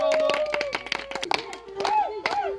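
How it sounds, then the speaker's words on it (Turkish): Hands clapping during a folk dance session at a picnic in Artvin, a few sharp claps in loose rhythm under speaking voices. "Alkış"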